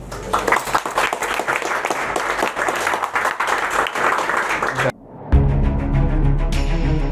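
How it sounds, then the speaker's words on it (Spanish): Applause from a Spanish-language studio audience at a talk on popular culture and fanaticism: dense, loud clapping sustained for about five seconds, then cut off and followed by a burst of music. "Por favor, un aplauso."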